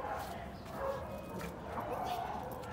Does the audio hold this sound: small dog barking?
yes